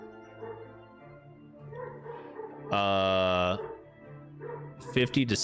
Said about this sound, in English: sorry if you guys can hear my dogs in the background